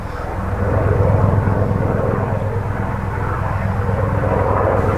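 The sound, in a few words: helicopter flying overhead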